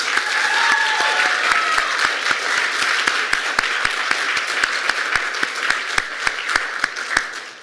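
A crowd applauds for graduating seniors at a college senior exhibition, a steady dense wash of clapping with sharp individual claps standing out, lasting the whole stretch without letting up.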